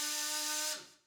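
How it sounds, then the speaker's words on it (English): A chainsaw in the Spirit Hunter: Death Mark video game roars at a steady, loud, buzzing pitch, then cuts off and fades out within about a second. "Was that the sound of a chainsaw?"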